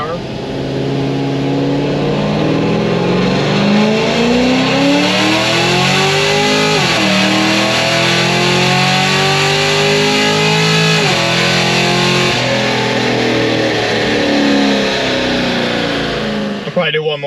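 A naturally aspirated LS7-powered car revs up hard through second, third and fourth gears. The engine rises in long sweeping pulls, drops briefly at each shift and climbs again, loud and close, with a voice faintly over it.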